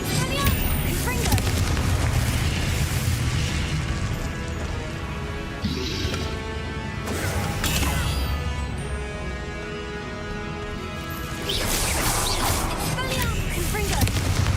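A blasting spell from a Harry Potter video game going off in loud, dense bursts of explosive booms and crackling energy, repeated several times over heavy continuous game noise.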